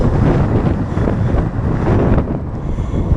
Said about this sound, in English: Going a little bit of a headwind for the next couple miles.